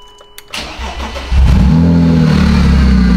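A BMW M3 engine with about 257,000 miles cranks briefly, catches, and roars up into a loud rev that holds steady, close by in a garage.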